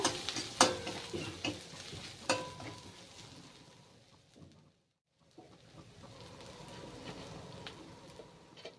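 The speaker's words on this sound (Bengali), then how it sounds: "রেড চিলি পাউডার দিয়ে ভালো করে একটু নেড়ে চেড়ে কষিয়ে নেব" Red chili powder being stir-fried into a spice mix for a cauliflower and red lentil dish: a close sizzle with scraping spatula strokes and sharp clicks, a short silent gap midway, then a steadier softer frying hiss.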